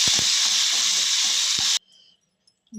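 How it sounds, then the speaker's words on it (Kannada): A tempering of mustard seeds, cumin, urad dal and curry leaves crackles and sizzles loudly in hot oil for a coconut chutney, then cuts off abruptly to near silence. "ಈಗ ಎಲ್ಲ ಒಗ್ಗರಣೆ ಹಾಕ್ಕೊಂಡೀನಿ"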